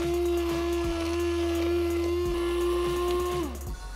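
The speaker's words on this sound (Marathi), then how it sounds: "तर माझ्याकडे हा हँड ब्लेंडर आहे, त्याला आपण वाटून घेऊया" Hand blender running continuously as it purees cooked tomatoes for a Maharashtrian tomato saar, a loud steady motor whine that shifts pitch near the end as the blade slows, with no talk over it.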